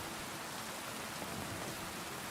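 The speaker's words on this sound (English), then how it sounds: "It'd be better if it wasn't raining." Steady, even hiss of rainfall in Kingdom Come: Deliverance 2, a soft continuous wash with no other distinct sounds and no talking.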